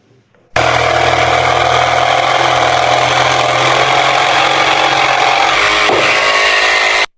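A Makita DJV181 cordless jigsaw with pendulum off runs at high speed through wood, a loud, steady, close buzzing whine that starts abruptly and holds for about six seconds before cutting off.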